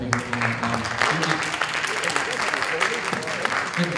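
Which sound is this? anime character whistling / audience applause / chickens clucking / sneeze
audience applause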